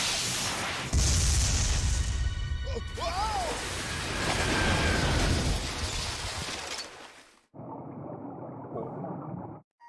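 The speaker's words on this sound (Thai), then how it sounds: "โอ้ยระวังระเบิด" Explosions in the Binary Domain video game, heavy booming blasts and crashing debris with whooshes and rumble, loud and continuous before a cut to a quieter, muffled section.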